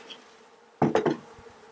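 Honeybees around a hive give a short close burst of buzzing and wing hum, loud for a moment over a quiet background and then fading.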